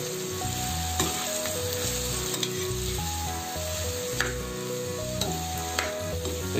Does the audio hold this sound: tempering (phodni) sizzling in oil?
yes